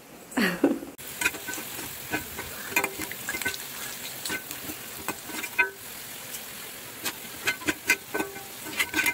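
Oil crackles and sizzles steadily as battered onion pakoda pieces deep-fry, with scattered sharp pops and bursts of spattering over a continuous hiss.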